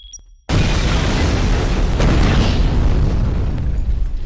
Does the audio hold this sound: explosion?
yes